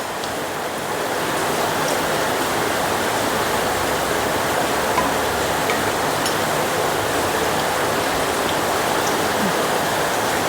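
Heavy rain pours steadily outside, a dense, even roar of hiss that holds at a constant level for the whole stretch with no voices.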